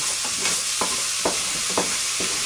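Ground beef frying and being stirred in a pan, with a steady sizzle under repeated scraping strokes of a utensil, roughly twice per second, close and clear with no talking.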